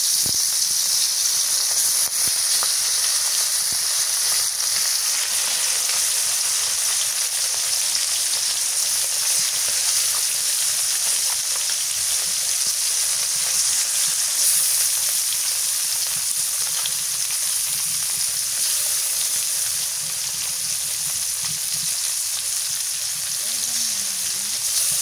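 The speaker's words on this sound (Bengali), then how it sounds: "তেল গরম হয়ে গেছে মাছ দিয়ে দিই" Koi fish fry in hot oil, a loud, constant, close sizzling hiss with faint spatters that holds steady for a long stretch.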